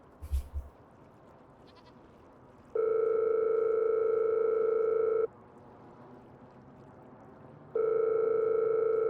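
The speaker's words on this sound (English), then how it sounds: "we need to phone Rob and get him to come up the farm" Ringback tone of a phone call in a farming video game, two long steady electronic beeps separated by a pause, after a short soft knock at the start.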